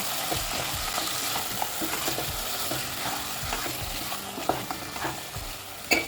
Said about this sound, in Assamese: এইখিনি এতিয়া মিক্স কৰিম বহুত ভালকৈ।